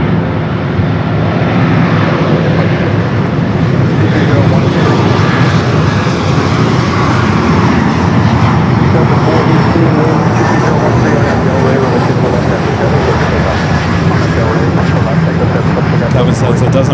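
Aircraft engines at Los Angeles LAX airport, a loud, steady roar that swells slowly as a plane passes, with a continuous broad rumble and no pauses.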